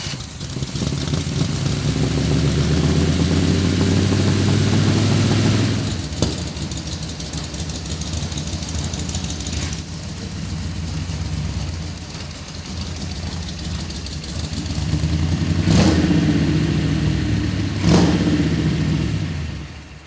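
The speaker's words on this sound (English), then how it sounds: "Truck starts and runs after 7 years of sitting in the weeds." An old Transtar truck, left sitting in the weeds for seven years, cranks and its engine catches, then runs with a loud, steady rumble that rises and falls with a few revs.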